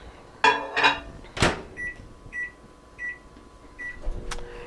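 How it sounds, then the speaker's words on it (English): A microwave oven melting a stick of butter: door clicks and thumps, button beeps, then repeated short tones and a steady low hum as it runs, close by. "I'm going to pop my butter in the microwave"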